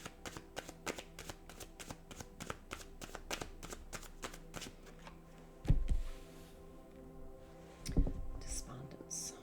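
Chakra tarot cards being shuffled up close, a quick run of crisp riffling snaps with a couple of louder thumps near the end.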